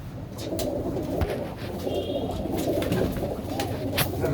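Several pigeons, including an old bird, coo softly and repeatedly among a flock gathered in one place, under a steady bed of rustling background noise.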